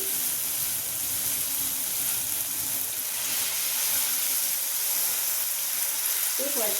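Water poured into a pan of hot turmeric and garam masala sets off a loud, steady hiss and sizzle that runs throughout, with a brief bubbling burst near the end.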